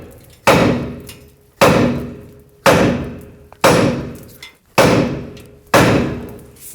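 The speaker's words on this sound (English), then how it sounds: "Take your hammer and hammer the knuckle right here." A hammer strikes the steering knuckle on a 2004-2008 Ford F-150 during front lower control arm replacement, six loud metallic blows spaced about a second apart, each ringing briefly, with no talk.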